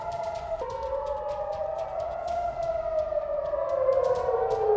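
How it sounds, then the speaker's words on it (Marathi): A civil defense war-alert siren wails steadily, its tone sliding slowly downward while staying loud and continuous throughout, with no voices over it. "युद्धाचा अलर्ट देणारा हा सायरन असणार आहे"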